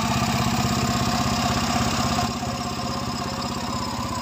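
A Honda Click scooter engine idles close by with a steady, even mechanical chatter that stays loud throughout and eases slightly in level partway through, with no talking.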